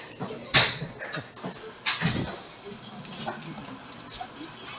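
Water from a garden hose runs into a container with a steady rushing hiss, broken by a few louder splashes and clatters near the start.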